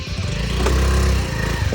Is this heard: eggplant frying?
no